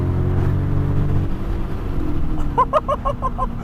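A Mazda 3 hatchback AWD engine rumbles and rises in pitch as it accelerates hard nearby, with a few pulsing tones toward the end.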